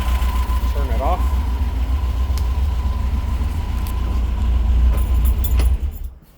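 The engine of a restored 1964 vintage bus idles loudly and close with a steady low rumble, then cuts off near the end, leaving a brief quiet tail; a voice speaks over it.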